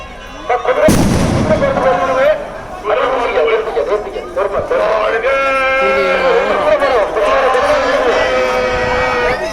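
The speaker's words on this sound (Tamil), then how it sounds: "வெடி போடலாம்." Firecrackers go off at a church festival for St. Anthony, a sharp loud blast followed by crackling bangs, with a crowd chattering and voices singing and praying throughout.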